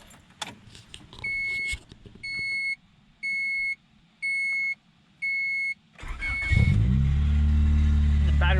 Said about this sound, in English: let me start up for you guys and show you guys the squealing belt here